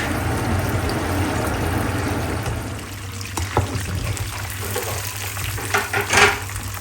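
Chicken wings frying in a pan, a loud continuous sizzle and crackle near the microphone, with a low hum underneath and a few stirring or clinking sounds toward the end.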